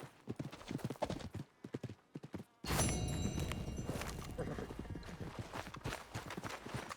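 Horse hooves clip-clop in Red Dead Redemption 2, first as spaced steps and then as a dense, louder run of hoofbeats mixed with game ambience.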